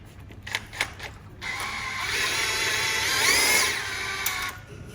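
Hand-cranking a hydrolocked, damaged Toyota Prius 2ZR engine with a ratchet: a few sharp clicks first, then a sustained grinding, whirring mechanical turnover with rising and falling squeal, close and moderately loud.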